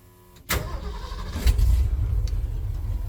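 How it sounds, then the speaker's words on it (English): A truck engine fitted with a Holley carburetor cranks and fires after a sharp start, then settles into a loud, steady idle with a surge about a second later. "I'm going to refire the truck"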